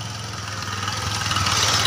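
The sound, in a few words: motorbike engine idling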